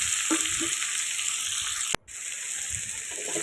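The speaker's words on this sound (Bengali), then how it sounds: "এবার কষিয়ে নিচ্ছি চিংড়ি মাছটা" Prawns fry with spices in a hot pan, a loud continuous sizzle with soft stirring scrapes, cut by a brief moment of silence before the hiss resumes.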